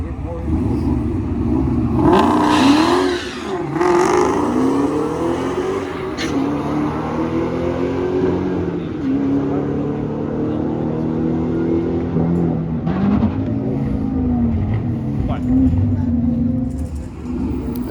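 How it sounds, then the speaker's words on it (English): Drag racing car engine stumbling and bogging at launch, a loud continuous roar with wavering pitch sweeps and brief cutouts, heard alongside people talking. "he's bogging out of the hole"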